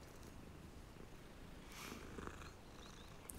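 A cat purrs in the video game Hogwarts Legacy, a faint, steady low rumble under soft background noise with a brief brighter rustle midway, no talking.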